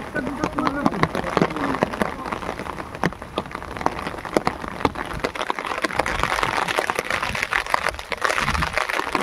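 Rain drums on a small fishing boat on a Sundarban river, a close irregular patter of drops striking the hull and cover, steady throughout with brief louder splats and faint background talk.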